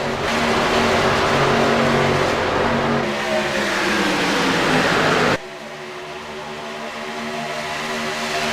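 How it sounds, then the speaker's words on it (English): Race cars roar past at upwards of 200 mph at Daytona International Speedway, a loud sustained engine howl that shifts pitch and then drops sharply to a quieter, distant drone that slowly builds again. "enjoy the sights and the sounds here around Daytona International Speedway as these things are going upwards of 200 miles an hour"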